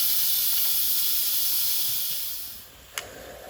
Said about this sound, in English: We're gonna hit cancel and press the release.